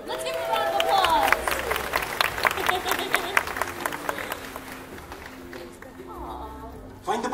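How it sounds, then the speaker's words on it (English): An audience claps at a live bird show at Disney's Animal Kingdom, with sustained crisp applause from a nearby outdoor crowd mixed with chatter and bird calls, fading slightly before a brief louder burst at the end. "Let's give him a round of applause."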